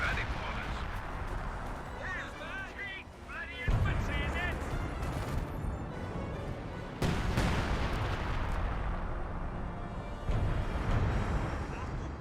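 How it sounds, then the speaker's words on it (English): A Company of Heroes 2 artillery barrage pounds the battlefield. Repeated heavy shell blasts roll in at steady intervals over constant rumbling battle noise, with faint voice chatter early on. "Artillery barrage being brought in."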